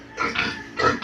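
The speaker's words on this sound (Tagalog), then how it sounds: "Ang mga baboy nagbangunan, narinig lang ang aking boses." Pigs just roused from sleep grunting and snorting close by, a few rough bursts in quick succession, with no talk.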